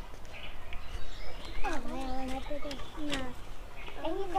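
Pigeons coo in a loft where a white-eyed pigeon is being put back into its coop: soft rising and falling coos repeat through the clip, with a voice and background noise running underneath.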